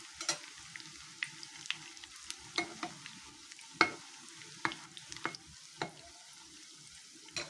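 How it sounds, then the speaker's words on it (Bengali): Shrimp fritters fry in hot oil with a steady soft sizzle, broken by frequent sharp crackles and pops as the pieces cook; nobody speaks. "বাকি আমার যে বড়াগুলো ছিল তো আমি সেম প্রসেসে ভেজে নিয়েছি"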